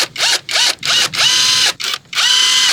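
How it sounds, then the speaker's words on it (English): Air ratchet undoing 8mm bolts, about 40mm long, on a 2000 Land Rover Discovery while its fuel injector wiring harness is replaced: five or six close, loud bursts of pneumatic whirring, split by short pauses. "using a little air ratchet"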